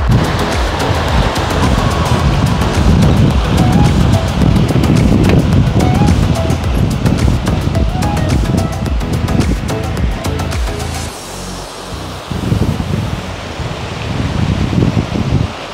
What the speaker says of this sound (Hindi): गाइस यही है वाटरफॉल, ज़्यादा पानी नहीं है ना